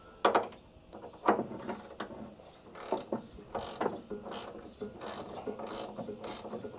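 A hand ratchet clicks in quick bursts while bolts are snugged down on a Foxbody Mustang, the sharp metallic ratcheting close and loud, pausing between strokes.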